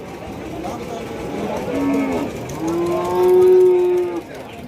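Cattle at the Kundadam cattle market, including Mayilai bulls, low with several deep, drawn-out moos, one short call followed by a longer sustained one, close by amid background market murmur.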